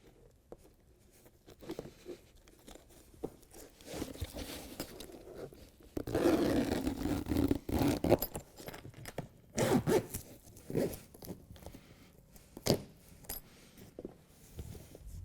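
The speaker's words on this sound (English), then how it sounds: "the passenger side zips on the same way as the driver's side" A zipper is pulled along the side of a BedTred Ultra truck bed liner on a 2017 Ford F-350, in several close zipping runs mixed with fabric rustling and small clinks.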